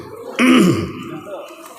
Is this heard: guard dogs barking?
no